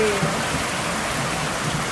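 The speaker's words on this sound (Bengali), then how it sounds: "অনেক বৃষ্টি হচ্ছে অনেক জোরে বৃষ্টি হচ্ছে" Heavy rain pours outdoors in a continuous dense hiss, steady and fairly loud throughout the short stretch.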